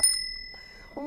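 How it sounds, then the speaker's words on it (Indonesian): A bicycle bell gives a quick bright double ring close by, then fades, followed by a faint voice at the end. "suara kring sepeda"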